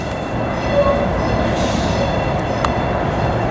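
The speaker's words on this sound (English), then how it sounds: "There's the train." A train rolls past close by near Union Station in Denver, giving a steady broadband rumble of wheels and cars that fills the whole clip, with a few faint sharp clicks and no talking.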